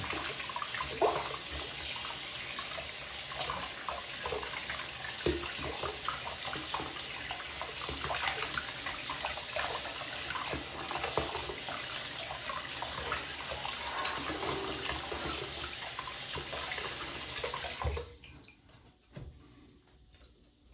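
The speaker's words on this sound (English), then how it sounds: "Lots and lots of rinsing." Tap water runs steadily over a 1970 Challenger T/A model kit car body being rinsed, a close continuous splashing rush that cuts off near the end, leaving a few faint drips.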